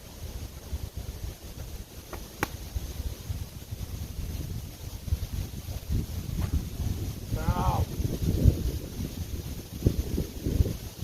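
Strong gusting wind buffets the microphone through a disc golf round in severe conditions, a steady low rumble with surging gusts, occasional sharp clacks and a brief voice heard faintly near the end.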